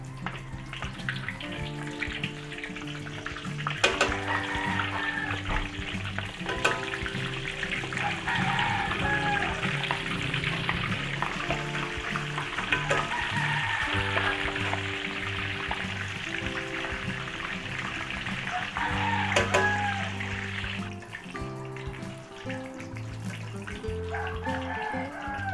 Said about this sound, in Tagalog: Init po tayo ng mantika dyan at tayo ay magpiprito na lang ating imbutido.